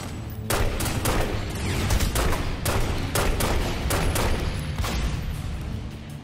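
Rapid bursts of gunfire crackle in The Godfather video game, a dense run of sharp repeated shots and volleys, loud and close, with no pause for the whole stretch.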